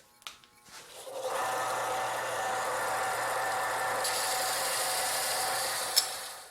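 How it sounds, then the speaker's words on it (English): An electric sander flattens one side of a wooden board for a mobile router table, giving a steady, close whirring hum that lasts about five seconds after a short start-up. "Now I'm just using a sander to get a flat side."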